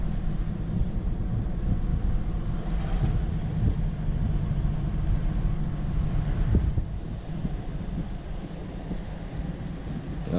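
Blacklick Creek running high and raging in flood after Hurricane Ida's remnants in Cambria County, Pennsylvania: a steady, loud roar of rushing water with constant wind buffeting the microphone and no voices.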